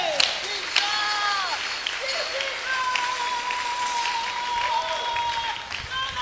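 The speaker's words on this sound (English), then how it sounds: "Clap for Jesus is done." A church congregation claps for Jesus during a prayer service, a busy continuous patter of many hands with ringing tones and voices over it.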